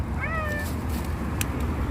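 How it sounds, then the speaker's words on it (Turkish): A single cat meow, short and rising then falling, fairly close over a steady background hum. "Ben de çok tatlı bir kedi buldum."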